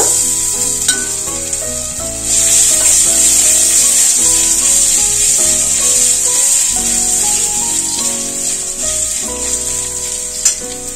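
Grated ginger hitting hot oil with fried whole spices, including peppercorns, for arhar dal khichuri: a loud, steady sizzle and crackle with stirring scrapes, and a brief clatter near the end.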